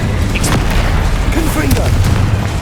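Incendio fire spell cast in Hogwarts Legacy, a loud booming whoosh of flame with crackling bursts, close and dense, with a voice shouting over it.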